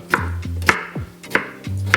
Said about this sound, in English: cut it up into some dices and put it inside of the blender